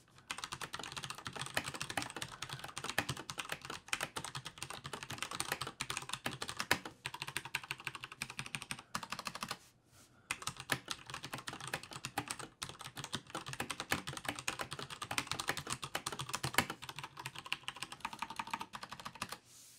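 Rapid, steady typing on a Max Keyboard Nighthawk Pro X mechanical keyboard with Cherry MX Brown switches: dense, close clacking keystrokes, with one brief pause partway through.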